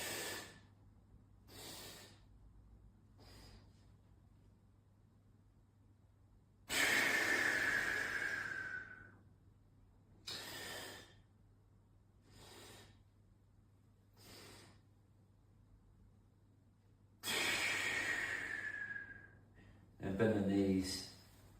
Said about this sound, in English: That was just 3 breaths there.